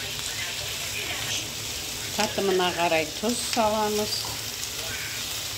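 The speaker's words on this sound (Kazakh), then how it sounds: "барлығын жақсылап қуырмалаймыз" Vegetables with carrot, bell pepper and pickled cucumber sizzle steadily in a frying pan, a soft continuous hiss running under a person talking close by.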